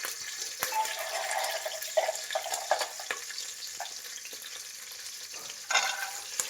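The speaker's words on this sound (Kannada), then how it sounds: "ಅದು ಚಟಪಟ ಅನ್ನೋವರೆಗೂ ನಾವು ಫ್ರೈ ಮಾಡಬೇಕು." Mustard seeds, cumin, chillies and curry leaves spluttering in hot oil for khara khichdi, a close crackling sizzle with scattered pops and a few louder bursts near the end, no voices.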